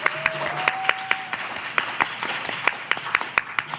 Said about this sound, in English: Give Jesse a round of applause.